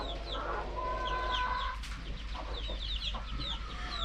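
Several chickens cluck and chatter nearby in short, overlapping bursts over a low steady hum, with no talking.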